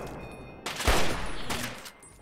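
Gunfire in Fallout 3 erupts as a loud close burst of rapid shots lasting over a second, then tails off into a brief rumbling decay.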